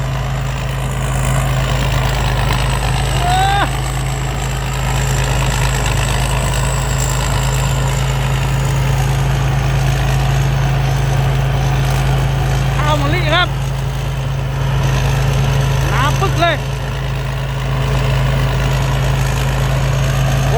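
A 2018 P. Charoenphatthana combine harvester engine idles and runs steadily up close, a heavy low rumble with a constant mechanical hum throughout, with occasional brief voices over it.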